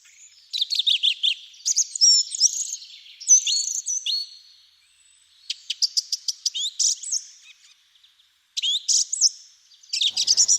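Birds sing and chirp in a garden, clear bursts of high, quick trills and tweets coming in phrases with short gaps, fairly close and alone without talk.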